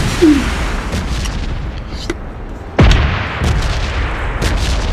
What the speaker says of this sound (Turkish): Patlama.